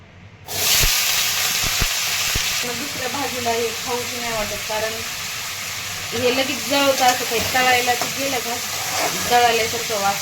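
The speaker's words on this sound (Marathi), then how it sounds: "आता कढईमध्ये तेल टाकून घेत आहे" Groundnut oil in a kadhai sizzles and hisses loudly and steadily right up close, flaring slightly at times, while someone talks over the frying throughout.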